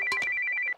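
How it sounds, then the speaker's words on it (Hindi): A phone ringtone trills in a quick repeating electronic pattern, close and clear, with no talking over it. "ये फोन तेरी निशा का ही होगा"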